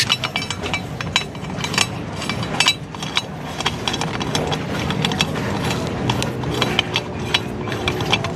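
A ratchet tightens the screws on a TRC CNC swing arm being installed on a Honda Click 160, giving rapid, steady clicking close up over a busy mechanical clatter, with no talk.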